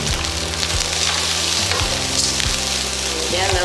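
Vegetables sizzle and crackle as they are tossed into hot fried rice in a pan, with a steady frying hiss and a few brief scraping stirs.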